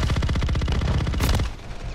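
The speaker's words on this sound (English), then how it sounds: "all them shots missed" Rapid automatic gunfire in Call of Duty rattles in a fast, even burst for about a second and a half, close and loud, then cuts off to quieter background noise.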